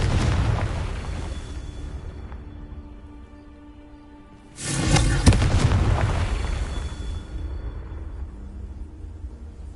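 A Confringo blasting spell in Hogwarts Legacy sets off a single loud booming explosion midway, its rumble trailing off slowly over several seconds of game ambience.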